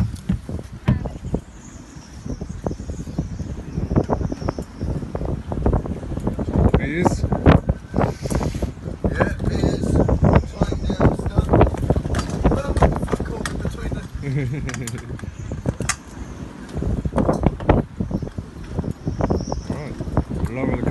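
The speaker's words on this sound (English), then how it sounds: "Come and check this wind out, Pirate." Strong wind blows at a riverside during a storm, buffeting the microphone in loud, uneven gusts, with people talking over it throughout.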